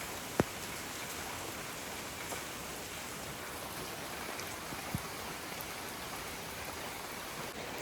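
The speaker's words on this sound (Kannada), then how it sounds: "ಮಳೆ ಬರ್ತಾನೇ ಇದೆ" Steady rain falls outdoors in a continuous broadband hiss, with a couple of sharp drip or tap transients standing out briefly; no voices are heard.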